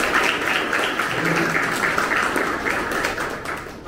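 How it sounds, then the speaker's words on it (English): Audience applause welcoming a guest speaker at an academic guidance session, a steady dense wash of clapping held at an even level for a few seconds, with faint voices underneath. "let me welcome our today's eminent scholar with a big round of applause"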